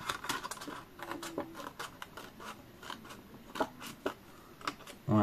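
Quick, repeated snips of scissors cutting paper for scrapbooking, irregular crisp clicks close by, with a louder thud at the end.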